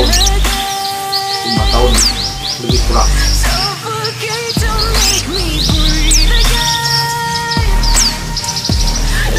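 Parakeets chirp loudly and call back and forth in rapid, high twittering bursts, set over a pop song with a steady beat and sung vocals.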